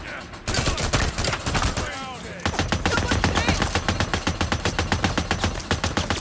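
Video game gunfire rattles in rapid automatic bursts, loud and close, with a brief lull before a long continuous volley of evenly spaced shots.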